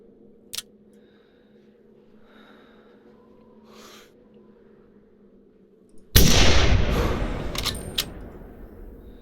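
An 8x57 classic rifle fired in theHunter hunting game: one sharp, loud gunshot cracks out after a quiet stretch of faint ambience and small clicks, its echo decaying over several seconds.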